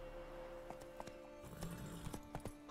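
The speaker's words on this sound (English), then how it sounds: "Get over here, horse." Horse hooves clip-clop on the ground in The Witcher 3, a steady run of hoof strikes picking up pace near the end, heard over a constant game background hum with no talk.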